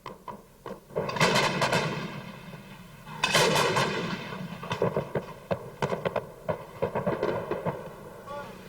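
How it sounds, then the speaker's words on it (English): Heavy artillery fires in repeated deep booms with rolling echoes, followed by a run of quicker, sharper blasts in an irregular rhythm, loud and close. "Artillery can pound enemy positions before an attack, gravely weakening an enemy."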